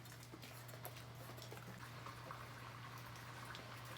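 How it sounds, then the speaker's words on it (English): A brewing pump recirculates wort on a homebrew brew day for a NEIPA, giving a steady low hum with a faint liquid churn underneath, constant and unchanging throughout, with no talking. "My pump going, recirculating here."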